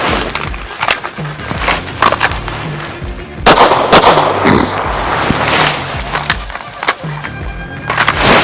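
Pistol shots ring out during an advanced pistol qualification course of fire, a series of loud sharp reports spaced irregularly over several seconds, with outdoor range ambience between them.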